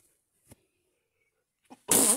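A single sharp sneeze bursts out near the end, loud and close, after two faint short sounds in otherwise quiet surroundings.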